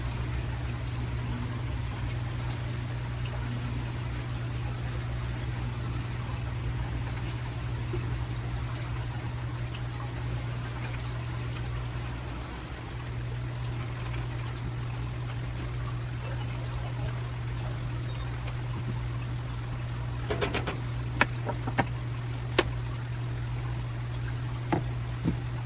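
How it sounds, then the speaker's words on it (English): Bite-sized pieces of steak searing in a pan with Worcestershire sauce, minced garlic and diced onion, giving a steady, even sizzling hiss over a low constant hum, with a few light clinks near the end. "we are just searing our steak bites"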